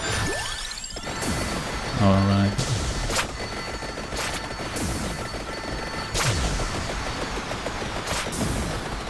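Vampire Survivors plays with a dense, continuous barrage of small explosions, bursts and whooshes. Sharp blasts recur every second or so, and a voice speaks briefly over the game.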